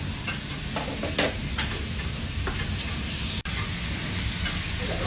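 Scampi fry hard with garlic, olive oil and a parsley stem in a pan, making a loud, dense, continuous sizzle and crackle that is broken once by a brief drop.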